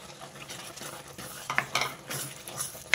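Coriander is stirred into a gongura meal maker curry: a faint, close simmering sizzle with a few sharp spoon scrapes and clinks against the pot, no voices.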